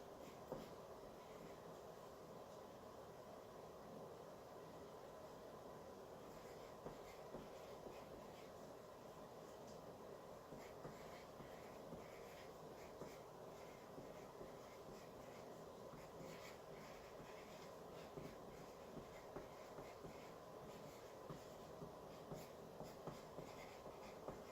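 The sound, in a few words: pen writing on paper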